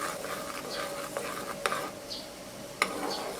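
A spoon stirs a boiling pot of natural henna hair dye, giving soft scraping and light bubbling with a couple of sharp taps against the pot, faint and close.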